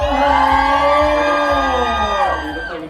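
A crowd at a Bangkok fashion event screams and cheers loudly in welcome, many high voices blending into a sustained roar that fades slightly at the end.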